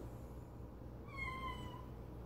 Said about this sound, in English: That's my actual cat.